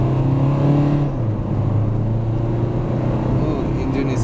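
A 2022 Renault Duster diesel engine accelerates hard from inside the cabin, a loud, steady droning growl with rising tones that persists throughout, close and continuous.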